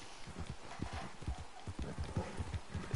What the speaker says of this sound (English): Riding down my horse.